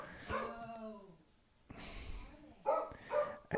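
A pet dog in a home gives a few close, sharp barks and yips, spaced irregularly, with a pause between the first bark and the later ones.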